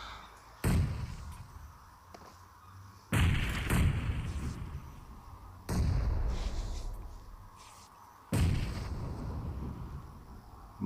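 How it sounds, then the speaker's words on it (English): Grenades explode in a competitive duos battle-royale video game match, four heavy booming blasts spaced a few seconds apart, each followed by a decaying rumble, with no talking. "Plenty of nades going out"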